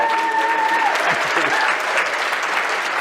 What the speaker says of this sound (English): another round of applause for the remarkable